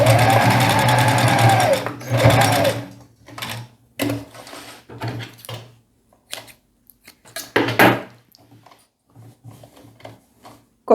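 A sewing machine runs a continuous stitching burst for about two and a half seconds while sewing a seam on a shorts outfit, followed by scattered handling clicks, fabric rustles and brief short whirs of the machine, close and fairly loud.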